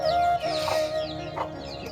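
Native country chickens on a small poultry farm cluck in short bursts close by, over a constant droning tone in the background.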